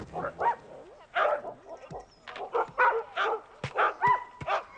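Several Quebec sled dogs bark and yip in quick, uneven bursts at close range, with the excited calls overlapping.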